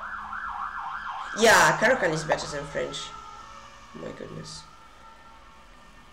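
An emergency vehicle siren, ambulance or police, wails in rising and falling sweeps, then grows loud and close before fading as the vehicle passes, with someone talking over it.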